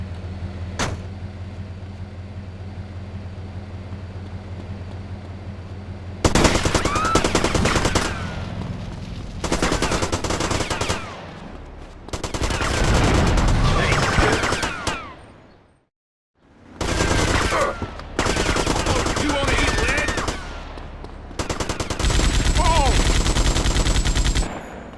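Bursts of automatic gunfire from GTA Vice City Stories, loud repeated volleys broken by short pauses, with a low engine hum underneath and no talking.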